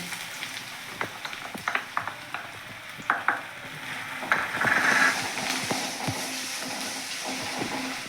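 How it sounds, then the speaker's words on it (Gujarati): Sliced onions dropped into hot oil in a pan, fizzing and sizzling steadily, with scattered sharp clicks and scraping stirs, a louder burst of hiss as they hit the oil, continuing at moderate volume without talk. "જો આપણું તેલ અહીંયા ગરમ થઈ ગયું છે. હવે આપણે સૌથી પહેલાં ડુંગળી નાખવાની છે."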